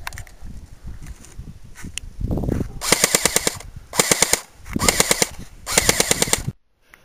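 A Thompson M1A1 airsoft submachine gun fires four rapid bursts of rattling full-auto shots outdoors, each lasting under a second with short pauses between, after some rustling and handling noise.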